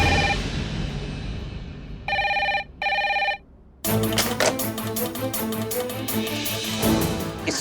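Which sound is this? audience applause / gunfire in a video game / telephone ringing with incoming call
telephone ringing with incoming call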